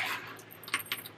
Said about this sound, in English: You're going to need two 1-inch D-rings